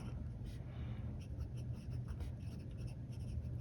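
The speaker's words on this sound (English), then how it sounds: "So this is a very wet nib, and it is smooth, it's not scratchy." Wet, smooth nib of a Jinhao 80 fountain pen writing on paper, a soft continuous scratch-free scribble, quiet and close against a low steady hum.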